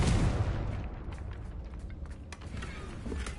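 A Confringo blasting spell goes off in a video game, a loud boom that opens with a heavy low thud and rolls on as a dense rumble with crackling debris throughout.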